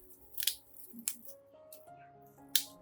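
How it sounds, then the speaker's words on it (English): Sharp orchid scissors snip away dried and damaged orchid roots, giving three or four quick, crisp cuts spaced irregularly, close and fairly quiet. "I will use clean, sharp, specialized scissors to remove all dried and damaged roots from the orchids"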